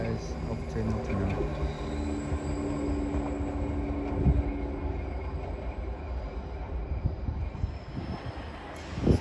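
A passenger train pulls out of Derby station bound for Nottingham, a steady low diesel rumble and rolling wheel noise that holds at moderate loudness throughout, with faint clanks and a brief rise near the end.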